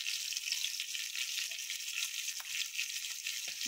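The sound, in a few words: rava-coated bangda (mackerel) fish frying in a pan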